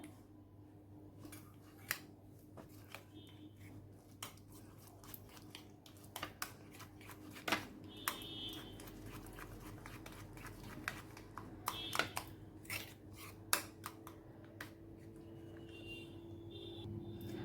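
A spoon beats homemade curd in a bowl with quick, uneven taps and scrapes, some louder clicks standing out over a faint room hum.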